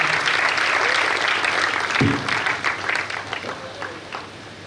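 A crowd at a community award and honour ceremony bursts into loud applause to welcome a community leader. The clapping is dense at first and gradually thins and fades toward the end.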